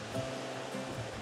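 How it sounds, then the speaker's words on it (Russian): Steady broadband wash of ocean surf with waves breaking in a continuous roar, soft swells rising and falling slightly, no voices. "Вот это вот шум волн, прибой"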